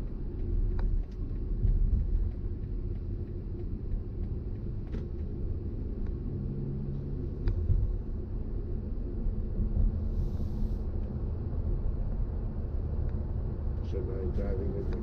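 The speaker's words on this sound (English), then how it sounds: "So now I'm driving with my car also." Interior of a BMW i4 M50 electric car driving on the road, a steady low rumble of tyre and road noise with a few faint clicks, continuous and fairly quiet, with no engine note.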